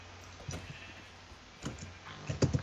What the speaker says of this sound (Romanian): Alte behăitoare.